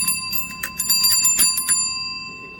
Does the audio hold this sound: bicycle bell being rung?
yes